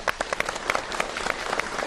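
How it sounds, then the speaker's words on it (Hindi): Audience applause at a Doordarshan televised Hindi comedy poetry gathering for World Laughter Day, dense, lively clapping from a crowd, steady and moderately loud. "जोरदार तालियां।"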